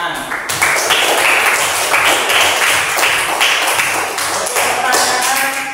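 Schoolchildren in a classroom break into loud, sustained clapping, a dense rattle of many hands close by that lasts several seconds before thinning out.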